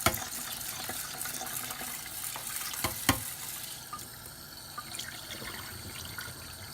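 Rice rinsed under running water in a sink, with a steady close splash and trickle and a few sharper clinks and knocks of a pot as the water is drained.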